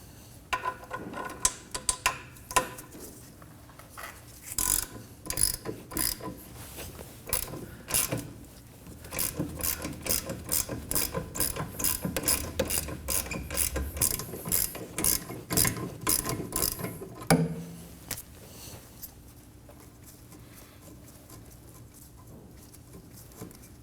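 A ratchet spins a 12mm socket to back out a rear brake caliper bolt on a 2011-2012 Kia Optima, giving long runs of rapid, close metallic clicking that stop abruptly near the end, followed by quiet.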